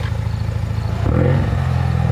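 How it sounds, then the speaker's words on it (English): A car engine revved up from idle, a short rising surge over a steady low rumble, close and fairly loud with no talking. "Let's get some revs."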